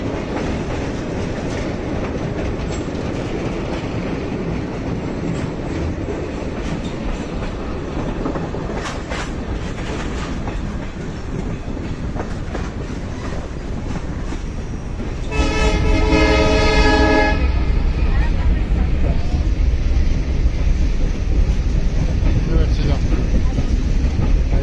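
A train hauled by a 1954 EMD G8 diesel locomotive rumbles steadily with a continuous low mechanical drone, then a louder horn blast sounds partway through and the rumble grows heavier, near a bridge in Cuba.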